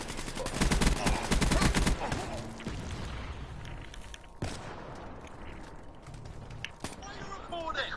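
Shotgun fire in Call of Duty Black Ops 3: a rapid burst of gunfire at first, then a couple of sharp single blasts spaced apart against quieter game noise.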